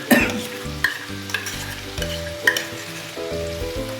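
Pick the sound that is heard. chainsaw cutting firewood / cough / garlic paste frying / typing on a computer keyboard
garlic paste frying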